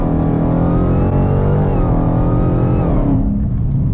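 A car on Mickey Thompson ET Street tires accelerates hard in second gear during a traction test, engine revving loud and rising steadily close by before easing off near the end.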